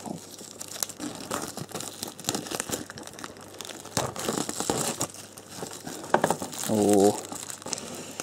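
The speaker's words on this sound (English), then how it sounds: "Just got to be careful not to ruin the box by pulling the cellophane too hard." Cellophane wrap being peeled off a classic PC game box, close crinkling and tearing crackles in irregular bursts, with a brief voiced exclamation near the end.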